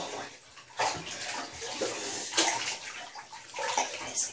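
Tap water pours and splashes into a bathtub being filled for an ice bath, a continuous close rushing flow with sloshing bursts and gurgles as the level rises.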